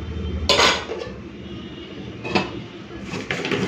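A metal lid goes onto a pot of pointed gourd and prawns cooking with water, sharp clanks of metal at the start and again midway, with quieter rattles and handling noises in between.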